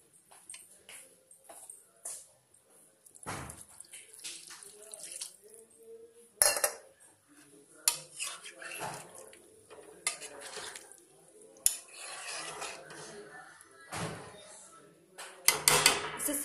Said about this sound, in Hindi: अब इसको हम ढक देंगे